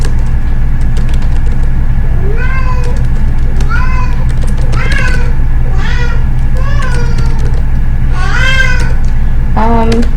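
A noisy cat meows repeatedly, about seven drawn-out, wavering cries spaced a second or so apart, loud and close over a constant engine-like hum, with a person talking nearby.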